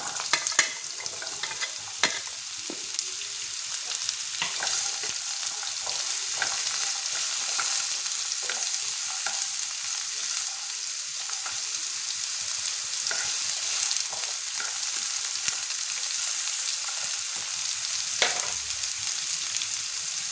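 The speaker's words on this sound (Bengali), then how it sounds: "কুচানো আলুগুলো দিয়ে দিলাম" Chopped potatoes fry and get stirred in a pan with bay leaves, dried chilli and panch phoron, a steady close sizzle broken by scraping stirs and clinks throughout.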